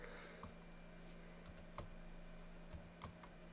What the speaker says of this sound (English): let's see what happens if I just type in Zen Browser here